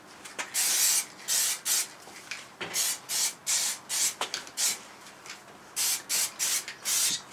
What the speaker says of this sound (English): before you go spraying it around the front